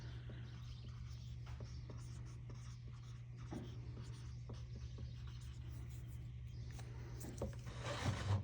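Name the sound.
writing with a marker on a straw cup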